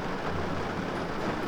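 Heavy rain falling outdoors in Kranjska Gora, Slovenia, a dense continuous hiss of drops with a low rumbling undertone, no voices.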